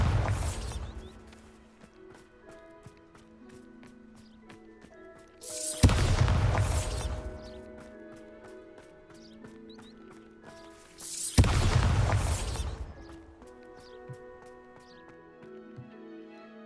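Three loud spell blasts from the Bombarda charm in Hogwarts Legacy, each a sharp booming burst spaced about five to six seconds apart, over a steady bed of tonal game music with no talk.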